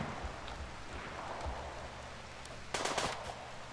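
Gunfire in the video game RimWorld: faint, distant-sounding shots, then a short, slightly louder burst of rapid fire near the end over a steady background hiss.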